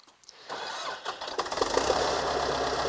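A tractor engine running in first gear under load, with one working implement removed, rising from a low start into a steady, loud mid-pitched rumble with a busy, knocking texture.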